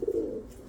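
A pigeon from a pair of flying birds, a blue bar cock, gives a short, low cooing call, close and clear, fading after a brief burst.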